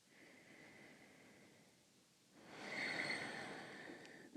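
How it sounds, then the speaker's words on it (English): A slow deep breath in a calm yoga session, a soft airy inhale that swells into a louder, breathy exhale close to the microphone, with no talking. "One more breath"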